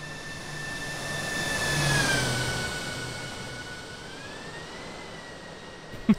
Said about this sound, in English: Little short, low flyby.